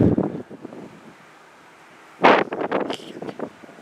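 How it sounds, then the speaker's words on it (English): Wind gusts buffet the microphone trackside in Kimball Township, Michigan, with a loud rumbling burst at the start and another after a quiet stretch. "Sorry, it's just the wind's making it hard."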